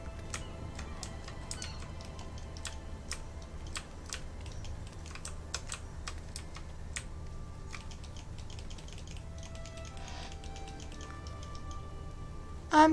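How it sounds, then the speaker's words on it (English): Sharp mouse clicks while playing the video game Rime, close and fairly quiet, come in irregular bursts and scattered single taps over a low background hum, with no talking. "You guys hear me clicking?"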